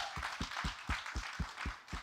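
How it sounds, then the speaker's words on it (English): Audience at a company meeting giving another round of applause: faint, quick, evenly spaced claps over a soft background wash of more distant clapping. "another round of applause for that"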